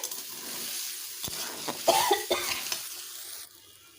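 Broken wheat (dalia) is stir-fried with spices in a pan, giving a soft sizzle with a few scraping stirs and clacks of a spoon through the middle of the stretch.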